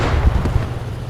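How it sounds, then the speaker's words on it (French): A nearby explosion in a multiplayer armored tank battle game lands as a dull, low thump amid steady engine rumble and battlefield noise, brief and muffled rather than sharp. "Ça a pété juste à côté."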